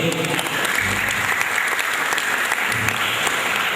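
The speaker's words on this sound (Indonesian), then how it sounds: "Tepuk tangan dulu untuk ini." Sustained clapping from a crowd at a World Environment Day event fills the space, steady and dense, with a voice faintly audible beneath it.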